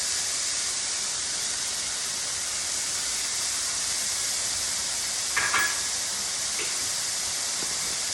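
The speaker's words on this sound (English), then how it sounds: "the onions and the mushrooms are sauteing" Onions and mushrooms sautéing in a pan give a steady, even sizzling hiss throughout, with a faint brief clink partway through and no voices.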